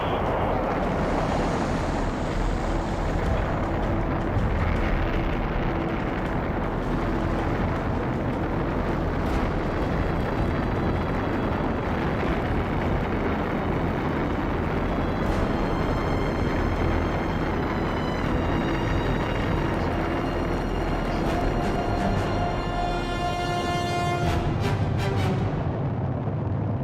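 Saturn V rocket launch for an Apollo moon mission, a continuous deep roaring rumble that stays loud and unbroken throughout, with faint tonal ringing toward the end.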